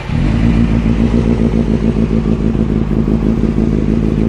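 Honda CBR 600 F3 motorcycle fitted with a Yoshimura shorty exhaust idling, a loud, steady, throbbing engine burble with a fast even pulse that carries on unbroken throughout and has no voices over it.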